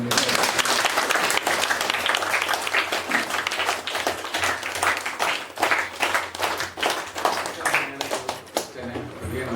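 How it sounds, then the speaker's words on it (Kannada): Sustained loud applause from a crowd at a school event where a Rotary Club hands out water filters and plates to children, dense clapping that fills the room steadily before slowly thinning toward the end. "ಜೋರಾದ ಚಪ್ಪಾಳೆ"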